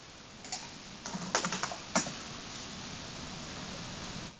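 Someone types on a computer keyboard, tapping out a short burst of quick keystrokes close to the microphone with no talk, followed by a steady background hiss.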